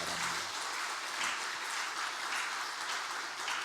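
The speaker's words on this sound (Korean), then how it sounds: "박수로 환영해 주시기" A church congregation at a Sunday worship service applauds in welcome, a steady wash of many hands clapping that holds an even level throughout, fairly distant and soft, with no talking.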